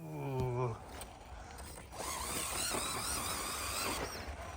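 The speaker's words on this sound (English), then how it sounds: "This is Ellie's first go with the Comp Rig Bully 2 MOA motor on axles" An RC4WD Bully 2 comp crawler with motor-on-axle drive whines with faint, fluctuating electric motor and gear noise as it crawls over a course, fairly quiet and without talking.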